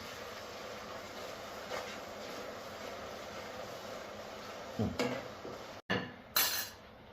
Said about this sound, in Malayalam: ഒരു സ്വല്പം കുരുമുളക് പൊടി ഇട്ടു. ഒരുപാട് വേണ്ട, ഒരു ചെറിയ ടേസ്റ്റ് കിട്ടാൻ വേണ്ടി. അതൊന്ന് ഇളക്കി കൊടുക്കണം.